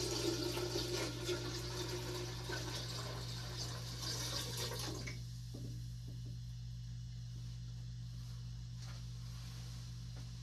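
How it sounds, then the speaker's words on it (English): Water runs into a large laboratory beaker during a sterling silver refining setup, a steady pouring rush that stops halfway through, leaving a low electrical hum and quiet room noise. "The reason for doing this is so the aspirator bottle doesn't float while we fill up the main portion"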